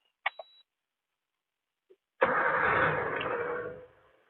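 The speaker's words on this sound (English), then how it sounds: "I'm starting the car" A Gypsy/Samurai car with a custom AC and power steering setup is started: a couple of short clicks and a brief crank, a pause, then the engine catches and idles loudly for about two seconds before dropping off.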